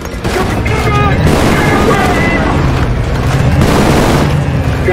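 Grenade explosion and heavy gunfire in the shooter game Trepang2 during a final showdown at Horizon HQ, booming blasts over rapid continuous firing, loud and close throughout.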